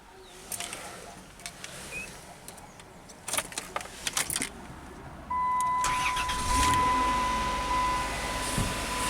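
Car keys jangle in short metallic bursts beside a Dodge Caravan with a new PCM during a no-start check, followed by a steady electronic tone and engine or ignition noise building near the end.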